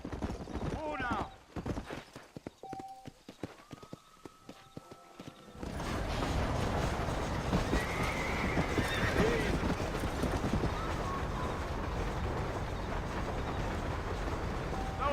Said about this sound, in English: I love the way they did the horses too.